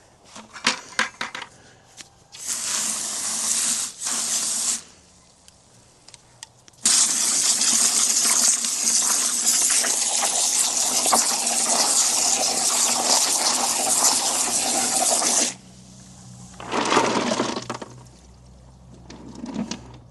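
Water gushes over a batch of dirty garden rocks being rinsed back and forth, coming in bursts: short splashes, a long sustained pour, then more brief spurts, with rocks clattering faintly underneath.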